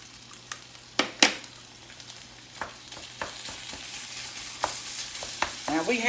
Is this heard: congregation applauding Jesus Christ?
no